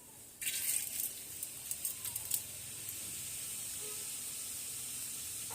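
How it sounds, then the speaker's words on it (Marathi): Cumin seeds hit hot oil with a sudden hissing sizzle. Sharp crackles pop over the first couple of seconds, then settle into a steady, quieter sizzle close by. "आता मी 1 चमचा मोठे तेल गरम करायला ठेवले होते। त्यात आता आपल्याला जिरं घालून घ्यायचं आहे।"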